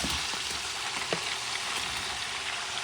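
Cuban pork chunks, masitas de cerdo, are added to a hot frying pan with lemon juice, setting off a loud, steady, close sizzle with a few small pops and no talking.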